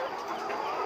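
Laying hens after a coryza (snot) vaccination cluck softly and continuously, a dense, low-level flock murmur with no talk.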